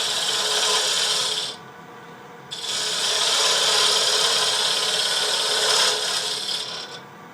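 A tool rounds over the outside of a wooden spin top on a lathe, giving a continuous close rasping, scraping hiss that drops out briefly near the start, then resumes steadily.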